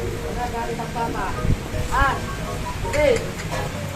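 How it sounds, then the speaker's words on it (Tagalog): Rain falling outdoors while people shelter, a steady broadband hiss of rainfall throughout, with people talking over it intermittently. "Nabutan kami ng ulan."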